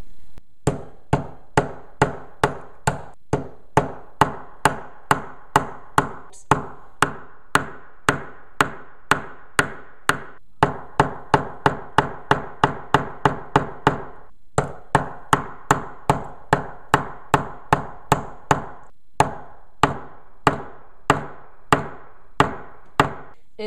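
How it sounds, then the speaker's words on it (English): A hammer strikes a rock again and again to break it open for crystals, in a steady stream of sharp, close, loud blows at about two or three per second with brief pauses, and no talking. "So I'm gonna take my hammer and be careful because if you miss, you will hit your finger"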